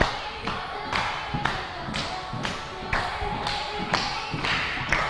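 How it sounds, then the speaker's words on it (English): A dance group claps in unison while moving around the floor, steady evenly spaced claps about every half second over shuffling and thumping footsteps, close and clear. "Go around clapping."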